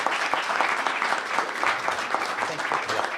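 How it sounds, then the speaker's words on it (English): An audience at a public forum on the midterm elections in Louisville applauds two panelists, a dense, steady wash of clapping from many hands that holds at an even level throughout without any talk. "How about a round of applause for these two guys?"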